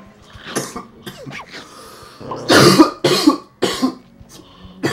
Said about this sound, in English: I hate coughing.